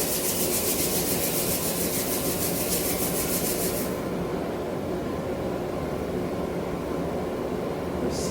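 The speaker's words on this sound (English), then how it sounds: "We're going to rub the hands, creating warmth in the palms" Hands rub briskly together to warm the palms, a close, steady dry friction hiss for about four seconds that then fades into a quiet, even background.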